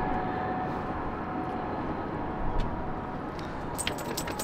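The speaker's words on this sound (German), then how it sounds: "das ist bestimmt schon der, lass mich lügen, 7. Hubschrauber, der hier drüber fliegt" A continuous low engine rumble of a helicopter passing overhead, steady and fairly distant, with faint light jingling near the end.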